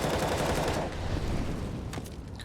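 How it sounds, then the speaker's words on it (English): Rapid bursts of wallbang rifle fire through cover on the Vertigo map in a Counter-Strike esports match, loud dense shots packed together, with a few sharper cracks near the end. "That wallbang is meant to stop anybody jumping onto the sandbags."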